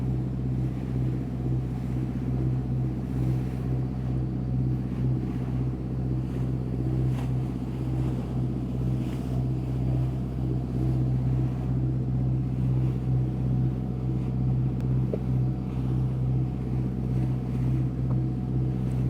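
A motor yacht cruising on open water near Burgazada, a steady low engine drone and hull wash heard from a distance with light wind noise, constant and unbroken throughout.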